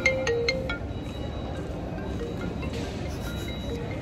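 A phone rings with an incoming call, its tone sounding in a few short repeated bursts at the start and then lingering faintly, as a steady background hiss continues underneath.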